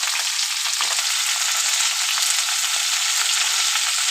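Potol (pointed gourd) coated in salt and turmeric frying in hot oil, a loud continuous crackling sizzle close by, steady throughout with no talk.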